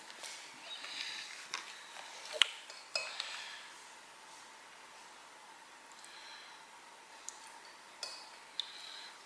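A spoon stirring a bowl of batter for a hot chocolate cake, heard as faint, sparse clinks and light taps against the bowl, nearby but quiet, with no talking.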